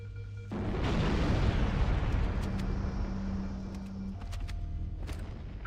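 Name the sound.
engine reactor explosion in Halo video game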